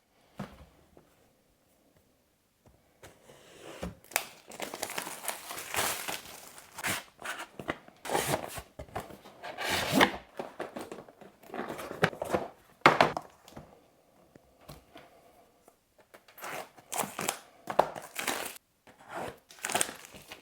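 The packaging of a Hobbywing MAX4 speed controller is opened: close, intermittent crinkling and rustling of plastic and cardboard with occasional sharp tears and thumps, separated by short quiet pauses.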